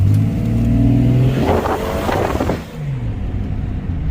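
A car engine revs hard under acceleration, its pitch climbing and swelling loud and close, then dropping back to a steadier rumble as the car moves off.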